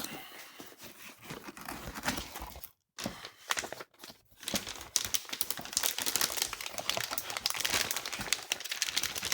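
Plastic-wrapped video card packaging being opened, close crinkling, tearing and crackling of plastic in busy bursts with two short pauses, no talk.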